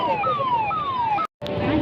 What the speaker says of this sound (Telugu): అంబులెన్స్ దారి ఇవ్వాలండి